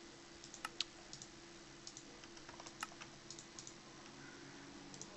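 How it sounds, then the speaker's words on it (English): Quiet, quick clicks of a computer mouse, mostly in short bursts with brief gaps, while crafting the same recipe over and over in the modded Minecraft game Feed The Beast; no talking is heard. "It's just me just clicking the same recipe over and over again."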